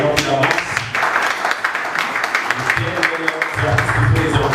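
An audience applauds and cheers as a man is called up at an award ceremony, steady clapping mixed with crowd voices and background music throughout.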